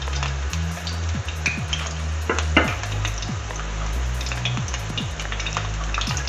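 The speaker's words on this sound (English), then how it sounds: "in that oil I'm gonna add the onions, finely chopped" Finely chopped onion frying in half a cup of oil for lamb liver masala, a crackling sizzle with low hum and repeated clinks and scrapes of a stirring spoon against the pan.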